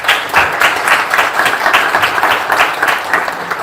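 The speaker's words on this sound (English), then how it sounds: "Round of applause, please." An audience applauds after a panel discussion at a conference, with dense, sustained clapping throughout the moment, loud and evenly spread from start to finish.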